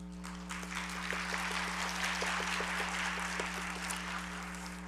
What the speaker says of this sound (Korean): 우리 일어나시면 박수로 환영하도록 하겠습니다